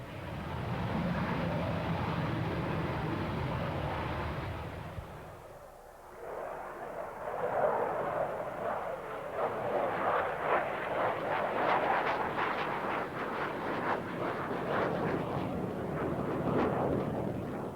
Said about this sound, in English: It is the first flight of the E-155, the prototype of what was to become the MiG-25.